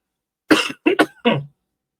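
Three close, sharp coughs come in quick succession from a man on a sports talk show, the last trailing into a throat-clearing rasp, followed by silence.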